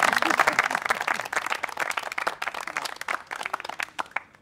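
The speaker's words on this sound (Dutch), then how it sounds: "Nu al applaus" An audience claps during an outdoor village show in Klein-Welsden: a burst of dense, close hand-clapping that is loudest at first, then thins into scattered claps, with voices mixed in.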